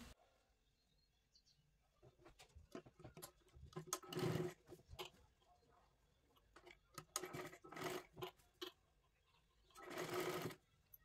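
A sewing machine stitches a katori blouse in several short bursts of about a second each, separated by quieter gaps filled with faint clicks and fabric handling, heard close up and fairly soft.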